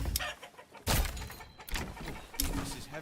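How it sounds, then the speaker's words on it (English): Chickens cluck in the Manor Lords video game, with short bird calls and clucks repeating amid bursts of game sound effects and noise, moderately loud and with no talking. "and then we need to get a bunch of these chickens"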